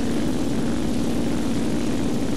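A WWII-era propeller warplane drones in an air combat video game, a loud, steady engine roar that holds without a break for the whole stretch, with no voices over it.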